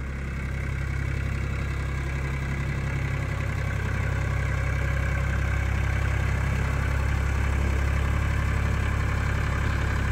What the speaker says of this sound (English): This is the first time I've ever put this tractor on this particular trailer